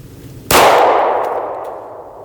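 A single close, loud shot from a Girsan Witness 2311 pistol cracks sharply and then rings out in a long decaying tail, alone without talk.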